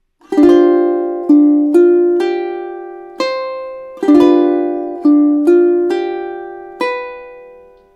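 Ukulele chords picked through two measures of a gentle progression, each chord attacked crisply and left to ring and decay, about eight evenly spaced strums played close and alone.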